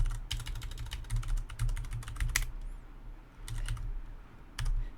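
Rapid keystrokes clatter on a computer keyboard as a command is typed on a RHEL Linux system, coming in close, crisp bursts separated by short pauses.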